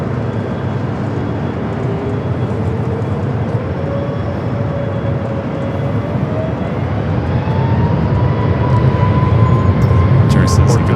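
A Delta jet taking off from runway 24 left at LAX, its engines a loud, steady roar with a slowly rising whine that builds through the clip, heard from a distance.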